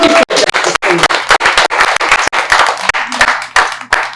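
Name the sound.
audience clapping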